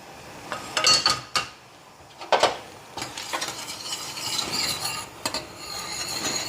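Metal utensils clink and scrape while rava appam batter is strained into a vessel, a few sharp knocks followed by steady stirring and scraping, close and moderately loud with no talk.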